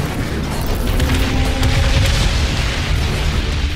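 Heavy explosions and combat rumble from the PC shooter Crysis 3 in a jungle level, a dense, loud wash of low booms and bursts filling the whole stretch with no clear gaps.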